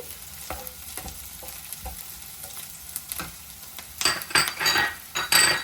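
Tamarind and onions fry in a pan with a soft, steady sizzle and scattered utensil clicks from stirring, growing louder and busier toward the end.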